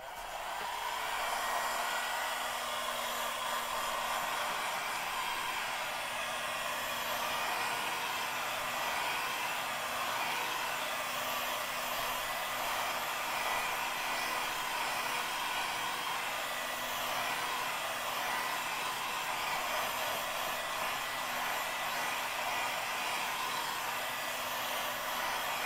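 A hair dryer blows steadily to dry paint on a paper collage, a loud continuous whooshing roar with a faint motor whine that holds unbroken for the whole stretch, close to the mic and with no talking.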